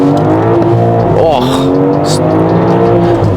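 A 2025 BMW M440i in Sport Plus mode is floored to full throttle, its engine a loud, close, sustained drone with strong steady harmonics. A brief exclamation is heard over it.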